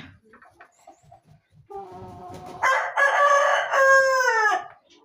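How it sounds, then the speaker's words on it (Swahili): Farmyard roosters kept apart from laying hens crow close by, one long ragged cock-a-doodle-doo rising out of softer clucks and rustling, followed by a second loud crow overlapping it. "Haya ndo majogoo yangu haya, familia haya ya kutuzalishia mayai"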